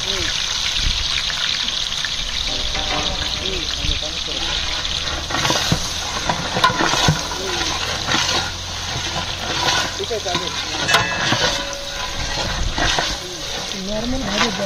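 Chopped onions hitting hot oil for a tempering, giving a dense, steady hiss and crackle throughout with brief louder bursts, close by.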